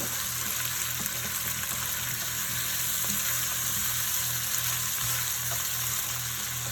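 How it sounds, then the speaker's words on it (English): Potatoes fry in sausage fat in a pan, giving a steady, loud sizzle with faint crackles and stirring, and no talk. "Throw your potatoes in, you can kind of cook them a little bit in it."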